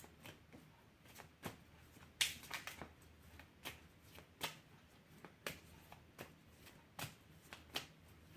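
A deck of tarot cards is shuffled by hand close up during a reading, with sharp riffling slaps at an irregular rhythm over faint background hush and no talking.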